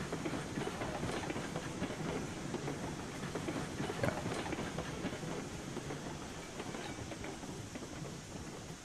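A train in the Railroads Online game rolls past a switch, giving a steady, fairly quiet rumble with soft clickety-clack and hiss that carries on evenly throughout.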